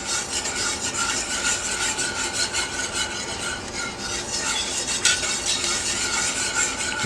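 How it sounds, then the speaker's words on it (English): Flour gets worked into beef liver gravy in a pan with steady, close scraping strokes, a continuous rasping rub with one sharper knock partway through and no voices. "We're just going to stir that."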